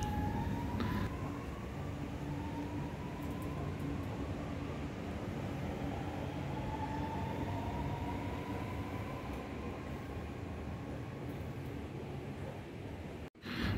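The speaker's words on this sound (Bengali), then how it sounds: "দেখুন চলে যাচ্ছে এখন মেট্রো রেল" Chennai Metro train pulling away from an airport station platform enclosed by glass screen doors, a steady loud rumble and whine with rising tonal hum that holds throughout, no talk over it.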